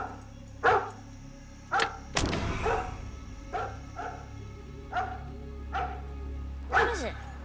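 A dog barks in sharp, separate bursts, about eight of them spread through the stretch with short gaps between, loud and fairly close, plus a thud partway through.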